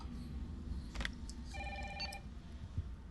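An in-game telephone rings in Resident Evil 3 Remake: faint electronic ring bursts with steady tonal beeps over a heavy low ambient rumble, no talk.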